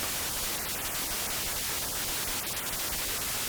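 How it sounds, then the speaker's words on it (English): Dense, hissing noise from a Kodamo Mask1 synthesizer runs continuously with faint whooshing sweeps moving through it, as an LFO and filter envelope slowly shift the notch filter's frequency. "here we can hear the effect that's having of the notch frequency being modulated by the LFO and the filter envelope"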